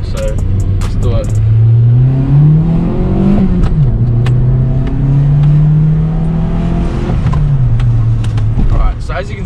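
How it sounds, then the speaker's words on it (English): A car with its stock exhaust revs and accelerates close by, a steady droning exhaust note rising and falling in pitch over several seconds, with no dramatic roar. "we'll see how it sounds in its stock form, basically the stock exhaust"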